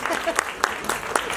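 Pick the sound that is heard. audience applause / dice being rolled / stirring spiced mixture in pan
audience applause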